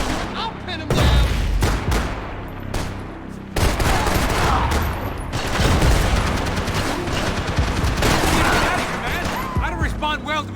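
Gunfire in the video game Max Payne 3: repeated bursts and single shots crack in dense, irregular volleys over a continuous battle din, with game characters shouting between the shots.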